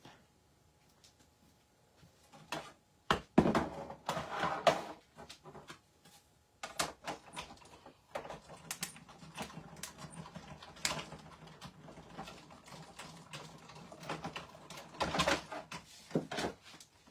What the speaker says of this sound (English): let me just go over and die cut this real quick.